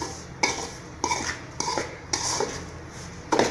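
A spoon scrapes and clanks against a pan while semolina (rava) is stirred and dry-roasted, giving intermittent metallic scrapes and taps at irregular intervals, close and clear.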